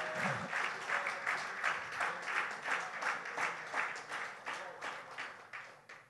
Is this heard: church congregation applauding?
yes